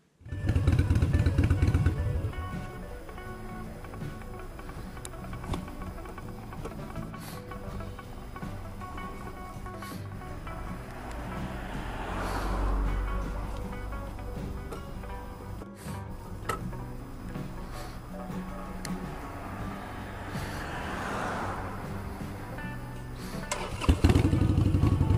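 A Harley-Davidson Sportster Iron 883 with a side stand fault that makes it cut out runs close by with a steady rumbling engine, ending in a louder burst near the end.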